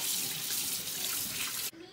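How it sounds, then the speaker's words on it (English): Tap water runs steadily over hands being washed at a kitchen sink, a close, continuous rushing splash that cuts off abruptly near the end. "wash your hands"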